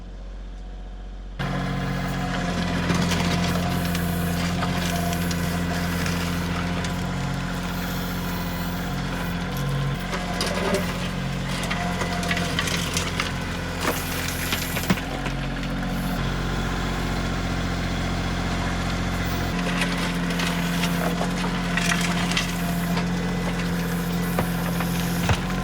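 A tractor engine runs steadily while working around a building pad on wet ground after heavy rain, a continuous low idle-like rumble that holds close and loud throughout with slight shifts in load.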